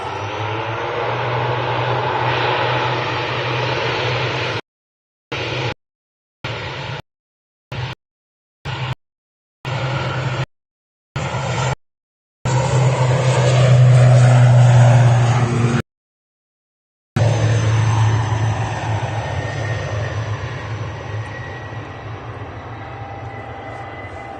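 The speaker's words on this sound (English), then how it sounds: "Miranda, yeah, it's an ATR 72. And it's rolling." An ATR 72 turboprop airliner rolls for takeoff at Manchester Airport, a loud sustained propeller and engine roar that swells to a peak and then holds as it moves away, broken by brief gaps.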